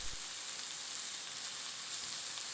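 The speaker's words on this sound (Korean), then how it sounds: "양파는 가득 썰어서 기름에 볶아주세요" Sliced onions fry in oil in a pan, giving a steady, close, bright sizzling crackle with a brief low knock at the start and no talking.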